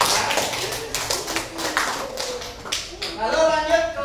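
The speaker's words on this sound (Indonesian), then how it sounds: "Kita kasih tepuk tangan buat kelompok 3" Students in a classroom clap for a group after its presentation: a few seconds of brisk, scattered hand claps, with voices rising over the tail end.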